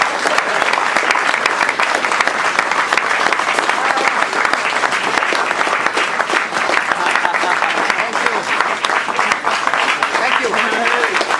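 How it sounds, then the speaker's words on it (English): An audience applauds at a Jordan Grand Prix Formula One team gathering, with loud, dense, sustained clapping filling the room throughout, a few voices and cheers faintly mixed in. "Can we have a round of applause and a little cake?"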